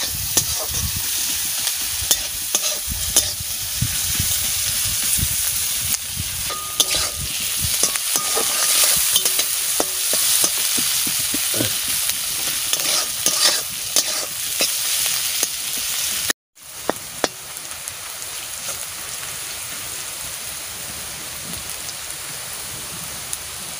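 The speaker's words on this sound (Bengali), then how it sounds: "পেঁয়াজটা ভাজবো" Sliced onions frying in hot oil for beresta, the crispy topping of a fish biryani, a dense steady sizzle broken by scraping stirs of a spoon, close and loud with no voices.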